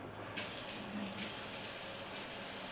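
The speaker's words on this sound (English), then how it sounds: "Watch me wash with a lot of soap and really hot water." A cutting board being washed with soap under hot running tap water, a steady, soft rush of water flowing alone at a fairly low level.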